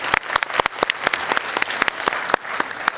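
Enthusiastic audience applause fills a theater during the staging of the play Baby, a dense burst of many hands clapping steadily and loudly with no speech over it.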